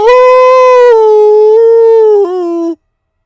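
A single long, loud howl held steady, wavering slightly in pitch before dipping and cutting off abruptly; a voice imitating a wolf.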